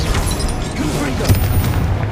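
A Confringo spell from the video game Hogwarts Legacy bursts with a dull, muffled boom amid a dense rumbling wash, while a voice speaks over it.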